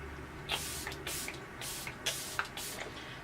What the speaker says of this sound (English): let's put on a little bit more setting spray actually